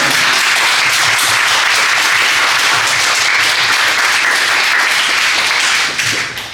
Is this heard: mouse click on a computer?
no